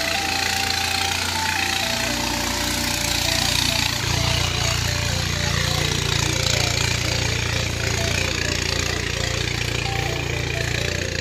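Boat engines on the Sangu river chug in a dense, continuous rumble with a knocking, jackhammer-like pulse, loud and steady throughout without speech.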